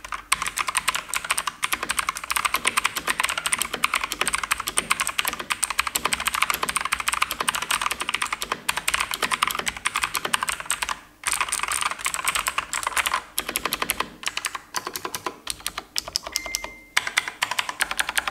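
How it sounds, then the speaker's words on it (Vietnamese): Rapid clicky typing on an Aoyeah K102 mechanical keyboard, a dense, continuous stream of sharp close keystrokes with crisp clacks and occasional brief pauses, heard alone without voices. "test cho các bạn xem cái cảm giác gõ của em này nhé"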